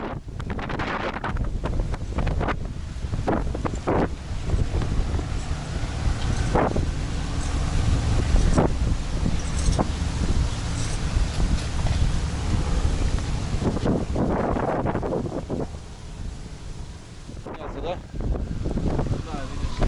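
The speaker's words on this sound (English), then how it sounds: "Getting a little bit windy." Wind gusts rumble steadily across the microphone outdoors while cycling in Miami, loud and continuous, while people talk at times underneath.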